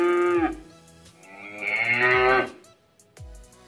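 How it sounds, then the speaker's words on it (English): A smart speaker plays a recorded cow mooing, two long drawn-out moos, loud and close, each followed by a short lower grunt. "This is a cow."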